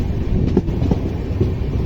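The Janshatabdi Express, train number 12080 between Hubballi and Bengaluru, rolls along the rails, heard from inside as a steady low rumble with faint rhythmic clicks.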